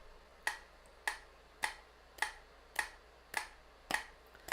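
A metronome ticks steadily at 104 beats per minute, eight crisp, evenly spaced clicks heard alone in a quiet room at moderate volume.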